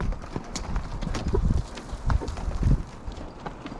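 Clip-clop of mule hooves walking on a rocky mountain cliff trail in the Tusher Mountains, a steady uneven stepping close to the microphone with light wind noise around it.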